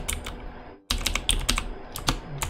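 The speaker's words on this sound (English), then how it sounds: "I am typing the wrong things." Quick, irregular clicking of keys on a computer keyboard, close and crisp, broken by a brief pause before a second burst of typing.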